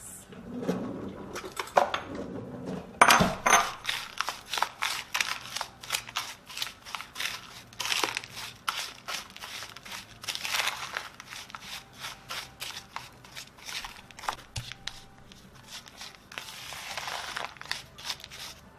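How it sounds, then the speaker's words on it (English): Crushed Oreo cookie crumbs being stirred together with melted butter in a bowl for a no-bake cheesecake crust, giving a steady run of close scraping, crinkling and clinking strokes with no talking. "put it in a bowl and add the melted butter to this and give it a good mix"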